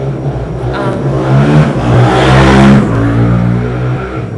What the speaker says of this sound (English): I live on a main road, so if you hear cars passing or motorcycles